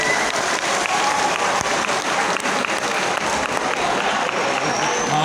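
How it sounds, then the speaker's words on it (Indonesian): An audience at a halal bihalal gathering claps loudly and continuously, a dense, even wash of many hands close by with faint crowd voices underneath. "Tepuk tangan untuk kebersamaan kita."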